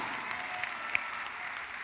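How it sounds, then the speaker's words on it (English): Congregation clapping during a church service, a faint, even patter of applause heard from a distance with a couple of sharper claps poking through. "You can clap louder than that"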